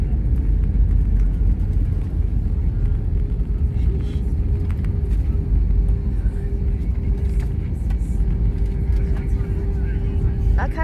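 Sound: Jetstar Airbus A320 reverse thrust rumble after landing

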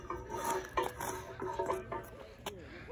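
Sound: rubbing skate wax onto a flatbar rail

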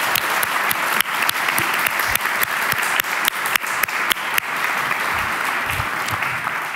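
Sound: audience applause

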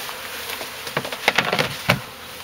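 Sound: swarm of honey bees during hive relocation

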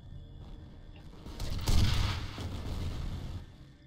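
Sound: rockets and explosions in video game F.E.A.R

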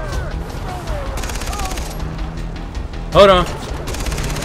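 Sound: turret machine gun fire in video game Far Cry 3

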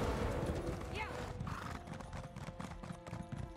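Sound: hoofbeats of a cow unicorn mount in a video game

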